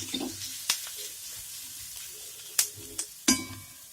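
Eggplant pieces rubbed with salt and turmeric fry in a pan, giving a soft, close sizzle. Several sharp spatters and stirring scrapes punctuate it, and no voices are heard.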